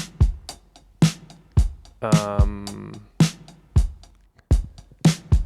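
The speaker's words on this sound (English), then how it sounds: "I'm playing the drums, and I recorded these drums in the room next door" An old Premier vintage drum kit plays a straightforward rock and roll beat in a recording room, with steady kick, snare and hi-hat hits in even rhythm and a brief sustained tonal layer in the middle.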